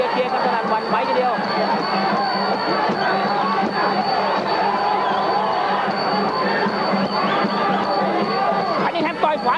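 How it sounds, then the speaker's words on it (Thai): A boxing crowd at the 1989 Peter Cunningham vs. Prasert Kittikasem bout roars and cheers loudly and continuously, a thick wall of voices with chatter mixed through it. "กองเชียร์เชียร์กันสนั่นหวั่นไหวทีเดียว"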